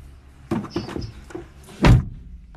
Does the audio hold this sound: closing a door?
yes